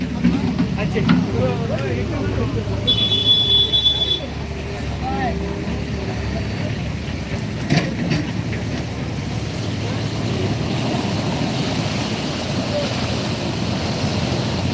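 Floodwater pours from a breached tank and stream near Mylavaram, a steady broad rushing roar with wind buffeting the microphone, while people talk over it.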